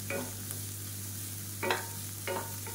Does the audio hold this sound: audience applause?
no